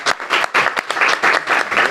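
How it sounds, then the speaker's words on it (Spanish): An audience applauds for a woman named Sol at a community cultural gathering, dense group clapping sounding close and loud, swelling in quick rhythmic bursts for about two seconds. "Un aplauso para Sol, que está ahí."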